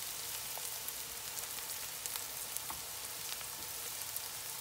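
Ground pork sizzling in hot oil in a wok with scallions for fried bean sauce, a steady close crackle with scattered pops throughout, no talking.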